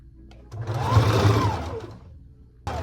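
A sewing machine runs a stay stitch along the top of a dress, giving one short, close burst of rapid mechanical whirring that swells and fades over about two seconds, with a brief clunk at the end.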